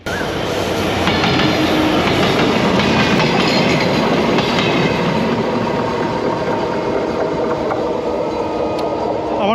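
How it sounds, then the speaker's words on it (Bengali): A train rumbles past close by near Jagati station in Kushtia, Bangladesh, loud and continuous, with rhythmic clattering of wheels on rails throughout. "একটা ট্রেন আসছে"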